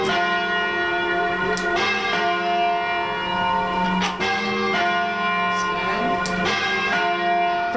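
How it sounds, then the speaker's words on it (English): The bells of St Paul's Anglican church ring continuously, a rich overlapping peal of struck bells with sharp repeated strikes and long ringing tones, loud and steady throughout. "people have said that they've heard the bells here over in Herne Hill"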